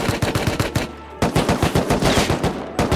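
Rapid automatic gunfire in the survival video game Rust, loud close bursts of evenly spaced shots, a brief pause near the middle, then another long rattling burst, no voices.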